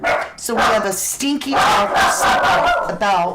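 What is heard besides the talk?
dogs barking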